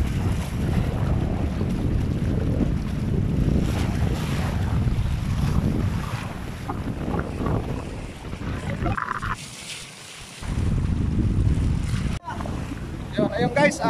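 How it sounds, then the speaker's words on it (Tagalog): Strong sea waves slosh and wind roars around a small fishing boat out on the water, a loud continuous rushing with buffeting mic noise that briefly drops away before returning. "napakalakas ng alon."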